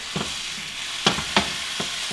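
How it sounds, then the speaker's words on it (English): Steady hiss of ground beef frying in a hot pan, broken by a few sharp pops and light scraping taps. "we got my pan and getting hot over here"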